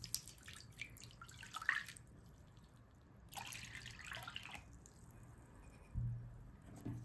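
Warm water poured into a kneading bowl of dry yeast and sugar, heard as two short splashy bursts of liquid with a faint dribble between them, close and fairly quiet.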